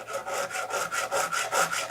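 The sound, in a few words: sharpening chainsaw chain with a hand file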